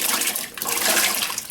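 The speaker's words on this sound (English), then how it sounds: "I'm just going to pour that inside" Water poured from a container into a soup pot of potatoes and carrots, a steady close rushing pour with no talking.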